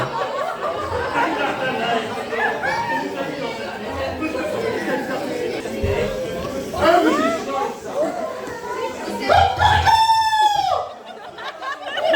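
At a wedding reception, guests take turns imitating a rooster's crow into a microphone, producing loud, warbling cock-a-doodle-doo calls over a chattering crowd, with the final crow rising clearly above the noise.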